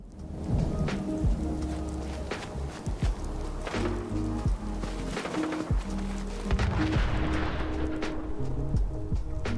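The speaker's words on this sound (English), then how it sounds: "Why is it raining?" Rain pours and thunder rumbles in the video game Fallout 4, steady close rainfall with low rolling booms and a few footsteps, with no talking over it.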